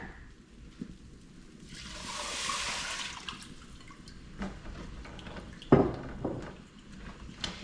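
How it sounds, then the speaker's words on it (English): Six cups of water pour steadily into a pot for a couple of seconds, with light clinks and kitchen handling noises around it. "and then 6 cups of water."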